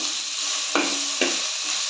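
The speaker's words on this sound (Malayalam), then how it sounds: "നല്ലോണം ഒന്ന് ഇളക്കി കൊടുക്കുക" Two chopped tomatoes sautéing in hot oil for a coconut-based fish curry, a steady close sizzle broken by two quick scrapes of a spoon stirring through the pan, with no voices.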